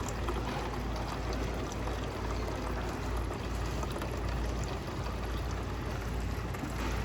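Water flushing through dispensers, a steady, close rush of running and gurgling water that goes on without a break, with no talking.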